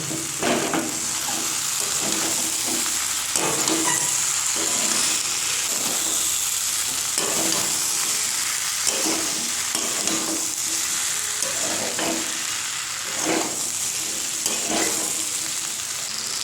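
Fried rice is stirred into a spiced potato mix in a pan, a steady sizzle broken by repeated scraping strokes of the spoon every second or so, close and continuous with no voices.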